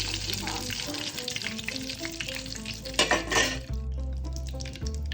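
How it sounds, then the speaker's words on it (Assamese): Eggplant pakora dipped in gram flour batter sizzles in hot oil, a close, crackling fry with clinks of stirring against the pan, all under steady background music. "এতিয়া বেচন দি ভাজিম।"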